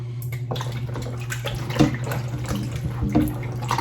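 Raw oxtail being washed by hand in a bowl of water with vinegar: steady sloshing and splashing with a few louder swishes, close up under a constant low hum.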